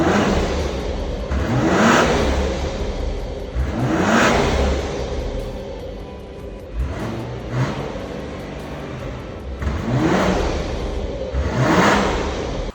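A BMW G05 X5 50e engine revs repeatedly through its original quad-tip exhaust, each loud rising roar swelling and fading in a regular cycle, close by with no voices.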